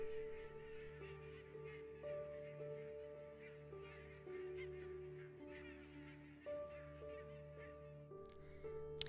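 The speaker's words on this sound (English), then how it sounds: "And these beautiful birds." Birds on a beach honking repeatedly in goose-like calls, steady and moderately close, with overlapping tones continuing throughout the stretch.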